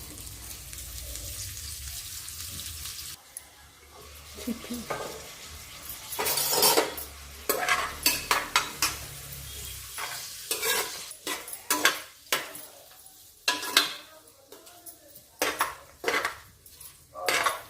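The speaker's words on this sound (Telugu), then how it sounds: "పీసెస్ కోసి వేయించుకుంటున్నాము, అందుకే కొంచెం నెయ్యి ఎక్కువ పడుతుంది" Carrot pieces fry in ghee while a spoon stirs and scrapes the pan, giving a soft steady sizzle broken by repeated close clinks and scraping bursts against the metal.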